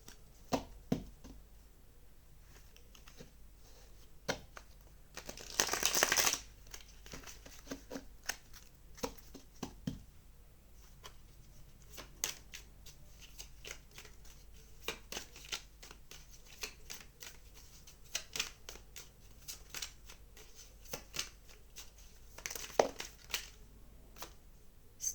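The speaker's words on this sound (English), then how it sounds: "I think I should shuffle this a little better to really get the energy that is." Tarot cards being shuffled during a reading, soft papery riffles and taps scattered over a long quiet stretch, with a denser burst of shuffling partway through and another later, close and fairly faint.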